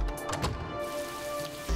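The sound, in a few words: rain falling in the video game Road 96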